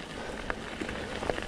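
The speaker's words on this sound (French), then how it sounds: "il commence à pleuvoir un peu plus fort là." Steady, even hiss of rain falling on a surface during a night mountain bike ride, with occasional faint drips and small knocks, no voices.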